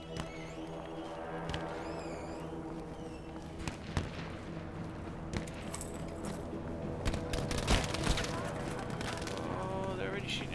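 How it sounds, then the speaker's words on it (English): Scattered gunfire cracks in the video game Battlefield V, irregular distant pops and bangs mixed with game sounds, with speech running over them. "Oh, they're already shooting."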